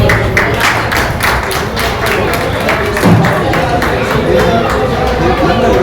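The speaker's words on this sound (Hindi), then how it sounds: "आइए तालियों से के साथ हम इनका हार्दिक स्वागत करते हैं" A crowd claps steadily in a dense, rhythmic burst of applause that fills the room, with some murmuring underneath.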